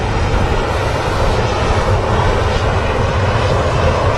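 A Ryanair airliner taxis at Manchester Airport with a loud, steady engine roar and broad rushing hiss that holds evenly throughout, with no voices.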